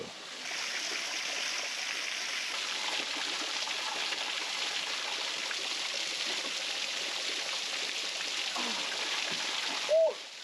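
Rushing water from a waterfall in Australia pours steadily in a broad, continuous hiss, with a brief faint sound near the end.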